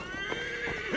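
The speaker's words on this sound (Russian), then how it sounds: "Вызываем лошадь и гоним по заданию." A summoned horse in Assassin's Creed Valhalla gives a short, close, clear whinny with a quavering rising-and-falling tone and light hoof clatter, lasting about a second with no speech.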